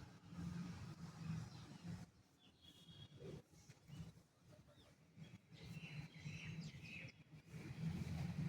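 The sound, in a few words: crows calling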